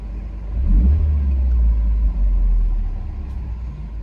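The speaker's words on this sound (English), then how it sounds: "Here's my car at idle." Car engine idling at a stoplight on a snowy late-winter day, a low steady rumble that swells briefly then settles, close and continuous with no talk.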